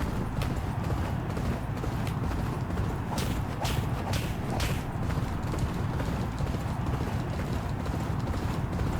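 Racehorse hooves galloping in the horse racing video game Champion Jockey, a dense, continuous drumming clip-clop from a pack of horses, loud and steady throughout with no talk.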